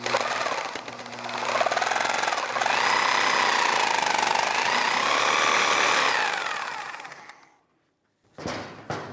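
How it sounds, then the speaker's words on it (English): A Sawzall reciprocating saw slicing through a corroded rear control arm bushing on a 2004-2010 BMW X3, a loud continuous rasping buzz with wavering pitch for about seven seconds, then a short stop and a brief restart. "I'm gonna slice this just with a Sawzall."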